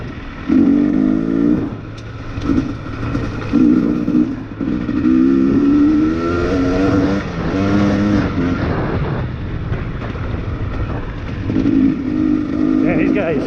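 Engine of a 2020 XC250tpi two-stroke dirt bike running steadily at low speed during a trail ride, a continuous buzzing drone throughout with slight pitch rises, while a person talks over it.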